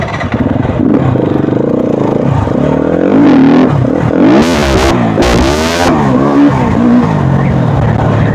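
A motorcycle engine revs hard and accelerates, its loud, close roar rising and falling in pitch with sweeping gear changes and a brief screech partway through.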